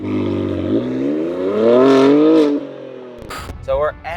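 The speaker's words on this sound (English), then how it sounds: "that empty, hollow exhaust sound" BMW G87 M2 with a Turner Motorsport exhaust and high-flow cats revving up in a rising, hollow, tonal engine note that climbs, falls back and then cuts off, followed by a brief gear whine while a voice speaks.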